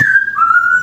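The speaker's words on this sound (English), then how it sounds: "That's my bird whistling." A pet bird whistles a clear, sustained tone that dips slightly in pitch midway, close and loud, alone without talk.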